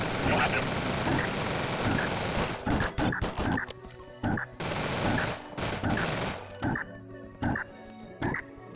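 Rapid video game gunfire rattles out in several bursts, loud and close, with sharp shots separated by short pauses and a few heavier impacts as fire is kept on a creature.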